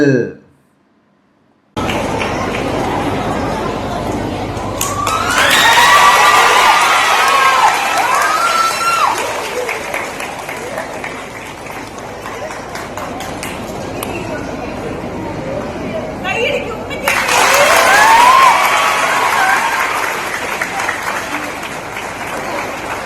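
A crowd applauds with steady clapping, swelling twice into louder cheering and children's shouts, loud and sustained after a brief quiet start.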